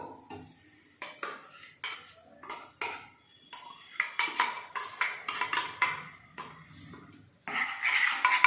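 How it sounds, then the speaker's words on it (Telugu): Masala paste being scraped from a bowl into a pot of boiling mutton curry, with repeated sharp clinks of a metal spoon against the vessel in an uneven rhythm, close and fairly quiet. "ఇప్పుడు దీనిని మనము ఈ ఉడుకుతున్న మటన్లోకి వేసేద్దాము."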